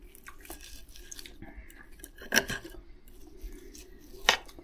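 A knife cuts a piece from a baked spam and cheese dish, giving two brief, crisp slicing crunches a couple of seconds apart over a quiet room background.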